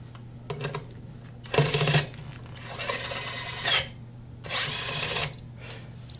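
A Kolver electric screwdriver runs through a fastening cycle, with short bursts of whirring motor as screws are driven, separated by quiet pauses and small clicks, close by and fairly loud.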